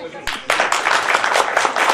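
Audience at a live Greek music show in London clapping, a dense wash of applause that swells in loudly after a brief pause and holds steady, close and continuous.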